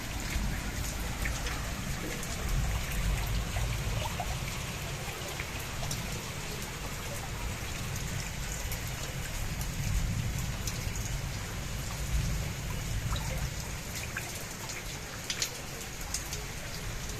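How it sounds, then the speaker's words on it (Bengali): Sustained rainfall drums on nearby surfaces and gathered rainwater, a broad continuous wash of drops and splatters that holds steady throughout with no talking. "তোমাদের বৃষ্টির জল দেখাচ্ছি।"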